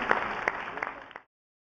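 Audience applause at a ceremonial reception for President Kovind in Lucknow, Uttar Pradesh: a dense wash of clapping with a few sharper claps standing out, which stops abruptly after about a second.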